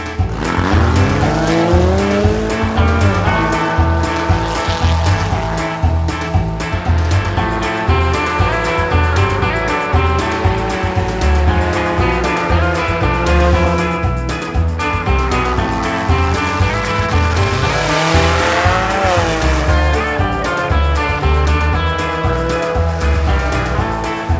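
A toy race car circles a racetrack on practice laps, its engine-like whine rising and falling with tire squeals, all set against a steady backdrop of music.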